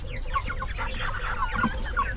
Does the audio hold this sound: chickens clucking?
yes